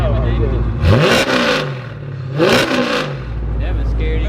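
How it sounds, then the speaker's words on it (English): A 1967 Camaro V8 being revved hard in two loud bursts, each climbing sharply then falling back to a rough, lumpy idle, with someone talking over it. "That boy got that roller rocker throttle body."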